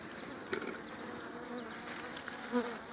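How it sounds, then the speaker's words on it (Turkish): Honeybees in a weak winter hive with low honey stores hum steadily and densely, a close continuous buzz with a few louder individual bees flying past the comb. "Evet, arılar uyanmış ve sıkı duruyorlar."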